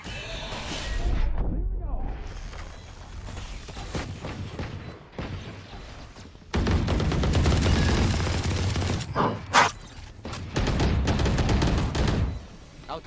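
Valorant match gunfire, including a wall bang shot through cover, with bursts of shots and explosive booms recurring across the round under a shouting esports caster, loud and dense in the latter half.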